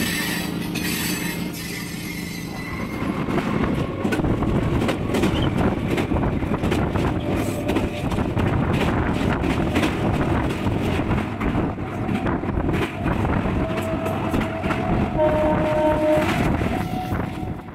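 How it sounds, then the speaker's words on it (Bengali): An Asansol to Purulia MEMU special train runs along, a steady loud rumble of wheels and carriage noise with wind buffeting the microphone throughout, and no voices. "Asansol two Purulia memo special"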